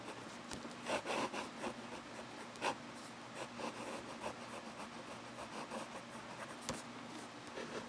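A Platinum Preppy fountain pen scratches across paper in soft, steady strokes, quiet and close, with a few sharper taps as the nib lifts and lands.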